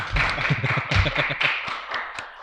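Sparse hand claps from a small audience in a podcast studio greet two guests, a few sharp claps standing out over a low hum of voices.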